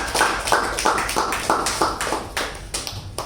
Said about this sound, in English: So a big round of applause to Toastmaster Apoorva.